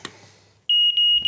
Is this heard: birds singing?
no